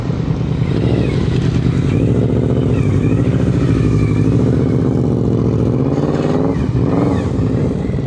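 A motorcycle ridden slowly without brakes, carrying a passenger and a bicycle, produces a loud, continuous engine drone with a wavering pitch, close by and without talk.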